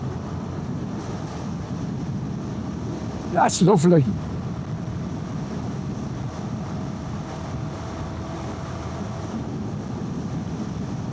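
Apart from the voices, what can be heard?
wind noise while riding a motorcycle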